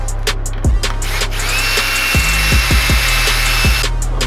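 Hand work on a screen printing press, pulling out through bolts and fitting fresh nuts, with a series of sharp metallic clicks and knocks over a steady hum. A bright whine runs through the middle of the clip.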